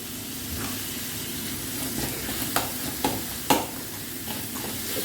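Salted tomatoes fry in a pan under a constant close sizzle, while a spoon stirs with a few distinct clicks and scrapes against the metal.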